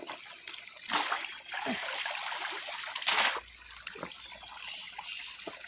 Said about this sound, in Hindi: फिर इसको धोना है पानी के बीच में।